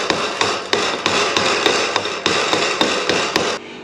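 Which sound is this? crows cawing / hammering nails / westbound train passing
hammering nails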